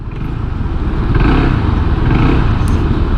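Honda PCX 160 scooter engine running loud and close on a test ride, a steady throaty drone that swells slightly as it revs, with no voices.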